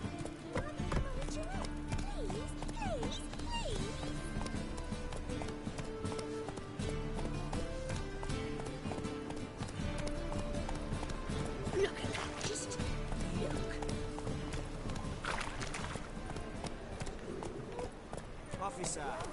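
The horse Roach gallops in The Witcher 3, its hoofbeats a steady clip-clop running under dense game music with a voice nearby.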